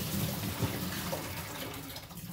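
Pre-soak water tipped out of a dye pot used for overdyeing merino wool, a brief steady splashing pour, moderately faint and close, with no voices.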